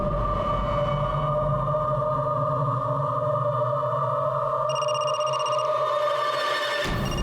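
A mobile phone rings indoors in a home during a crime drama, a steady electronic ringtone with layered sustained tones that shift partway through and then cut off abruptly near the end, with no talking over it.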